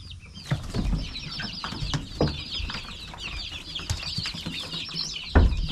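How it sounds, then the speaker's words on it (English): An old white hen clucks close by in a farmyard, giving repeated busy calls among other birdsong, with some thumps and rustling nearby. "that old white hen I've got, Christina Aguilera, well, she ain't so keen"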